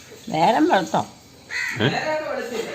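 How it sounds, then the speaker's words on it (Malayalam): Crows caw in the background of a morning scene at home while someone talks over them nearly throughout. "കാക്ക കരയുന്ന കേട്ടില്ലേ?"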